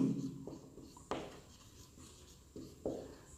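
Chalk or marker writing on a board during a Class 12 biology lesson, heard as a few short scratchy strokes separated by pauses, with no voice over them.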